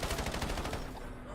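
Rapid automatic gunfire from Call of Duty rattles in a fast, loud burst of shots, then cuts off and leaves quieter game ambience.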